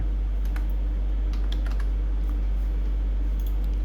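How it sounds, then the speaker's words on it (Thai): Computer keyboard typing comes through as scattered, fairly faint clicks over a loud, steady low hum, with short bursts of keystrokes spaced irregularly and no voices. "แล้วก็พิมพ์เข้าไป"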